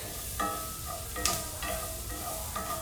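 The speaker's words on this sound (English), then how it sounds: "The ham is getting brown and the onions are softened." Ham and onions fry in a pan, a steady sizzle running throughout with a few louder clinks and stirs of a utensil, close by and with no talking.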